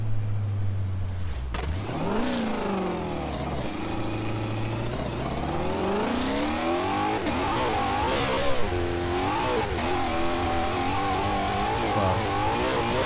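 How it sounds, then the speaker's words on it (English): A car engine in the video game Forza Horizon revs up and down repeatedly with a gurgling growl, rising and falling pitch sweeps filling the whole stretch with no talk. "It has a nice growl to it, but here's it's like gurgling almost."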